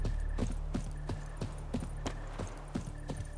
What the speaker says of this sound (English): Oh, there's somebody's horse.